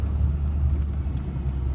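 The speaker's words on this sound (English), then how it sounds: "Use the engine to slow us down." An old truck rolls down a big hill with its engine braking, giving a steady low rumble and drone heard from inside the cab with no talk.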